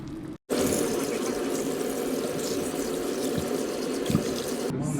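Steady running water from a tap pours over pig's feet being washed in a sink, a continuous close rush broken by a brief gap near the start.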